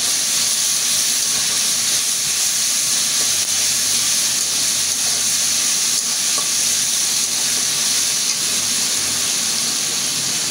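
Cumin seeds sizzle in hot oil with sautéed ginger and garlic in a pan, a steady, loud, continuous hiss with no pauses or talk.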